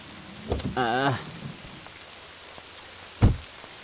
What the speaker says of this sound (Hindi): मैडम बारिश हो रही है, बैठो।